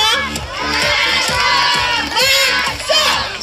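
A crowd of children and adults at a party with a magician, chanting the name Vaso loudly in rhythmic repeated shouts, close and energetic, with music underneath.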